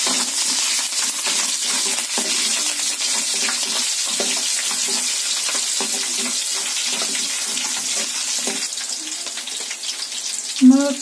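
Urad dal, curry leaves and green chillies crackle in hot oil with cumin, a dense, continuous close sizzle with scattered sharp pops and light stirring, ending in a brief louder clatter near the finish.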